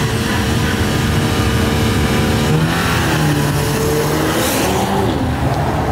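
Cars launching hard off the line at a drag race, naturally aspirated and turbo models including an Audi Q3, with a loud, continuous engine roar and rising revs sweeping upward, no talk over it.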